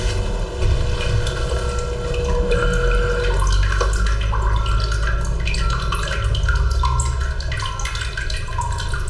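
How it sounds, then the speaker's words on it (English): A full water cistern spills a steady trickle, with continuous splashing and dripping water close and loud over a low mechanical hum. "You can see it's just dripping out a little bit."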